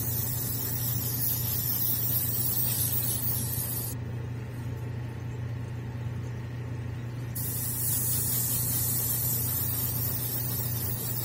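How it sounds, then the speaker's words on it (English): An airbrush sprays thinned paint onto a quarter-scale Hellboy miniature while fading one colour into another. A steady close-up hiss runs over a low hum, cuts out for a few seconds midway, then resumes. "Again, spraying in this direction, it just kind of will naturally fade into the other color."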